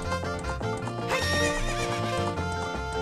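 A tired horse in a video game whinnies loudly over clip-clopping hooves and background game music.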